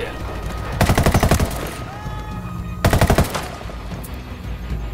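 Automatic rifle fire in Ghost Recon Wildlands while engaging hostiles: two loud rapid bursts of shots, one near the start and another midway, with quieter game ambience between them.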